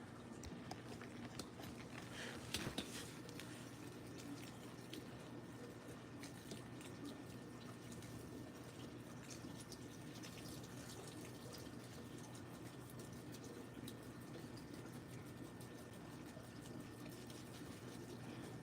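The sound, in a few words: water poured on plants while watering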